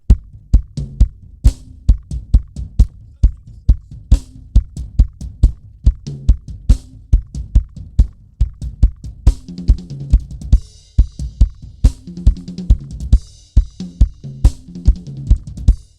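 Steady kick drum thumping in a regular beat in church, punchy and prominent, with light percussion and a faint bass line underneath.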